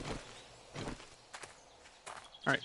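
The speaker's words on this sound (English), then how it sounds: "Why do I hear more footsteps than what I see?" Zombie footsteps in the survival game 7 Days to Die: several soft, uneven thudding steps at moderate distance, spaced irregularly, with one sharper, louder step near the end.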